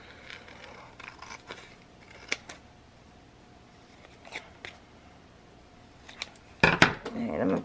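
Scissors trim paper scraps while pages and tags are embellished, heard as a series of sharp, quiet snips and clicks spread unevenly over a soft room hum, ending in a louder burst of handling noise.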